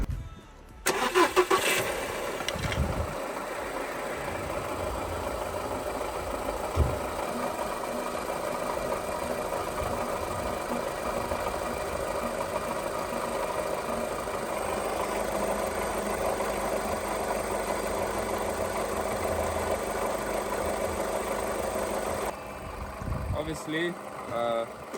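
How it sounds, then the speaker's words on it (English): A car engine starts after a coolant refill, catching after a brief crank, then settles into a steady, even idle that runs for about twenty seconds before cutting off near the end. "now I'm gonna start up the car, and hopefully the coolant will get sucked in into the radiators"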